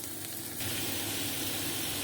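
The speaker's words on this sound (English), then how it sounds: "If you're frying something like this in olive oil" A steady sizzling hiss of food frying in olive oil, swelling louder partway through and continuing without pause.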